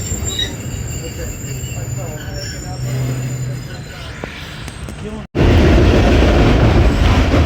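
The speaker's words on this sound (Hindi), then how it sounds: "मेरे दोस्तों बुरहान से पास थ्रू हो रही है हमारी ट्रेन" The Jaffar Express passenger train passes through Burhan on a foggy winter day. Wheels squeal steadily over a low rolling rumble, then the noise cuts out for a moment and returns as a much louder, roaring rush.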